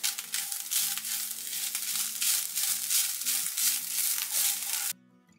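Soya chunks and onion sizzle and fry steadily in a pan while being stirred, a dense continuous crackle that stops abruptly near the end, with no talking.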